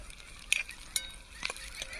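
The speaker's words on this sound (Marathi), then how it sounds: "सोले फुटत आहेत तेलामध्ये" Sole sputter and pop in hot oil for a Marathi-style harbhara leaf bhaji, a few sharp crackles over a faint frying hiss, close and fairly quiet, with no talking.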